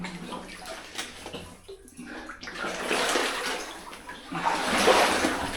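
Someone wades through cold, knee-deep water inside a flooded mine adit with rails on the floor. Steady sloshing and splashing builds to louder surges near the end, close by with no talk.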